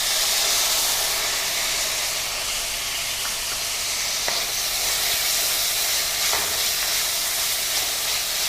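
Tomatoes hitting a hot frying pan for a vadacurry, a loud, steady, close hissing sizzle throughout with a few faint stirring clicks.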